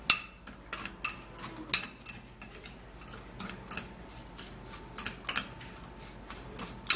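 Two tablespoons of dry ingredients, including turmeric powder for a home dark-spot remedy, are stirred together in a small dish, giving repeated light scraping and clinking strokes at close range in a steady, uneven rhythm with no talking.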